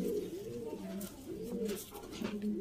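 Pigeons coo nearby in soft, rounded, repeated phrases that swell and fade in a loose rhythm, with faint chirps and background noise.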